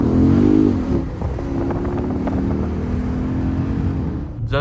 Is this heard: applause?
no